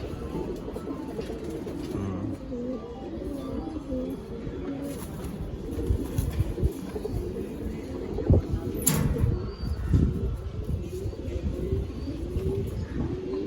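Pigeons at a pigeon market coo continuously in low, rolling calls, with several birds overlapping close by amid crowd noise and occasional thumps.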